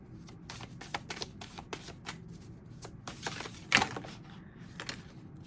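Tarot cards being shuffled by hand, a run of crisp riffling and snapping flicks in uneven bursts, close and fairly quiet with no speech.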